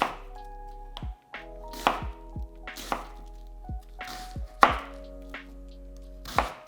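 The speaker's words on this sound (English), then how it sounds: "We'll use half of the onion and slice into thin pieces." A knife slices a sweet onion into thin pieces on a cutting board, sharp thunks landing in an uneven rhythm of about a dozen close, clear cuts with quiet pauses between.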